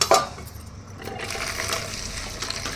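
Water poured over dry oats in a bowl, a steady rushing splash that starts with a sharp burst and then settles into a continuous trickle, close up and fairly loud, with no talk.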